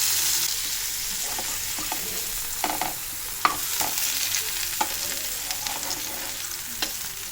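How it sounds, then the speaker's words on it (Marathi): Large pieces of paneer shallow-frying in a pan, a continuous hiss with scattered crackles and spoon scrapes at a moderate level. "मोठे पीस असेच मी हे करून घेणार आहे फ्राय करून घेणार आहे"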